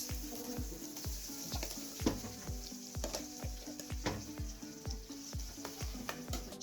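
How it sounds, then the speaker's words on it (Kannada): Curry leaves and cumin seeds crackle and sizzle in hot oil for a chutney tempering, a dense steady frying hiss with rapid popping and occasional stirring clinks, close and alone. "ಕರಿಬೇವು ಹಾಕ್ತೀವಿ."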